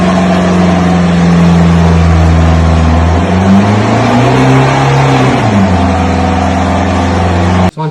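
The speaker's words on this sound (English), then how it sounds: "So just go for a drive, get the car up to temperature." A Toyota Hilux N70 with the 1KD diesel engine drives along, a loud, close engine drone that rises as it revs up, dips, then climbs again and settles, with no talking.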